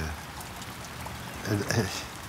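Rain falling on a Japanese garden pond with carp, a soft continuous patter of drops on water, with a person speaking briefly over it toward the end.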